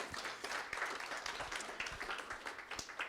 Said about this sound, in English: give yourselves a round of applause for doing such an amazing job